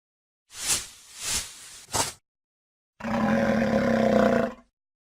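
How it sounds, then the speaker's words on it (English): A lion in a children's educational animal game gives three short grunting bursts, then after a pause one long, loud, sustained roar, heard alone. "Lion."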